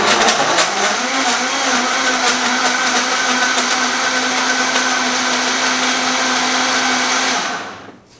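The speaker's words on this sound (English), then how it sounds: "make sure you put the blender cap on and then give it a whirl" A blender mixing a root beer milkshake whirs loudly and continuously for several seconds at close range, its steady motor whine holding pitch before spinning down and stopping.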